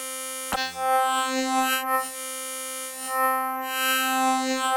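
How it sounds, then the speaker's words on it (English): A Sequential Pro 3 synthesizer sweeps through a wavetable, giving one sustained buzzy note whose metallic, folding timbre shifts and morphs over several seconds. It is steady and close, with no voices. "And you hear that kind of folding transformers sound."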